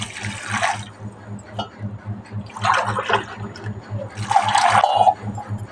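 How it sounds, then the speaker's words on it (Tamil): Water is poured from a tumbler into a pressure cooker holding chickpeas, arriving in three separate splashing pours with short pauses between them, over a steady low hum in the kitchen. "இப்போ குக்கரில் வந்து சுண்டல் போட்டாச்சு ரெண்டு டம்ளர் தண்ணி ஊற்றிடலாம்"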